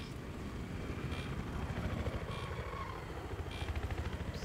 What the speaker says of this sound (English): Careful, their chopper's still up